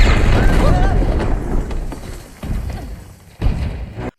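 A loud cartoon explosion as Zurg attacks Buzz, starting with a heavy boom and rumbling debris, followed by further thuds and impacts at intervals.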